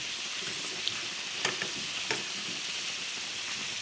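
Fish frying in a pan with malunggay leaves added, a soft steady sizzle with a few faint clicks and stirring scrapes.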